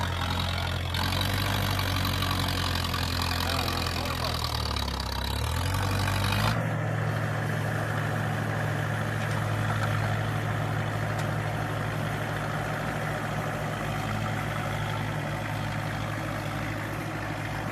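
A tractor engine runs steadily while ploughing a field, a loud low rumble that shifts in pitch partway through and then settles into an even drone.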